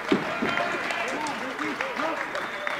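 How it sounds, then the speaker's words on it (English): Wrestling crowd clapping in an arena, a steady spread of applause filling the space while a commentator talks over it. "The crowd's starting to clap."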